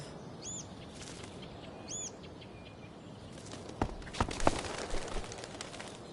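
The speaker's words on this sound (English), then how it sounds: "If I can scare that bird far enough away" A bird in the game Before the Storm gives a couple of short chirps, then flaps off in a burst of wing beats and rustling thuds over a steady ambient hum.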